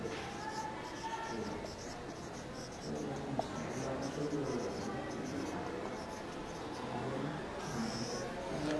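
Pencil or pen scratching steadily across paper, faint and close, as a geometry diagram is described by hand in a math class, with quiet background noise throughout.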